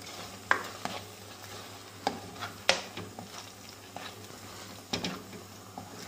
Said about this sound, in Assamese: মই কম জুইত এইখিনি ভাজি আছোঁ